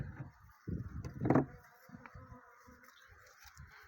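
Honeybees fly around apiary hives with a faint, intermittent buzz, broken by soft handling knocks and rustles close at hand.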